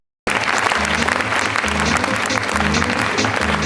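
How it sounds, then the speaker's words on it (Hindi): Loud audience applause at a gathering, dense steady clapping starting abruptly after a brief silence and continuing without a break to the end, with murmuring voices mixed in. "आपकी जोरदार ताली होगी।"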